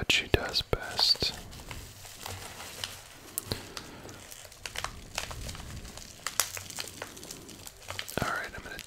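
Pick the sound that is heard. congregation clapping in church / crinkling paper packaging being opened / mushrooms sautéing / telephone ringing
crinkling paper packaging being opened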